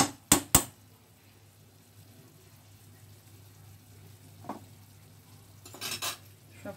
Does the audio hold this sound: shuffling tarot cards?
no